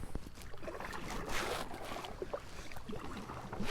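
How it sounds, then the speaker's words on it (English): Kayak paddle strokes splash and swish through the water under breezy open-air noise as a storm moves in, steady and close for several seconds with no talking. "start paddling"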